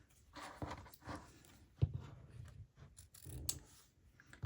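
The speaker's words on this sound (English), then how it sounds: "And I think I'll just cut these off at the edges." Scissors snip through ribbon at the edges of a bow for craft swap packaging, a few close, crisp cuts with handling rustle between them.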